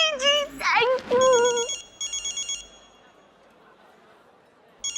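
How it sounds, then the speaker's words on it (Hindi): A telephone rings in a Hindi TV drama scene, with bright electronic ringing bursts starting under a voice and a voice, then repeating alone at a steady rhythm before falling quiet and briefly resuming. "ये स्वामिनी जी का फोन है"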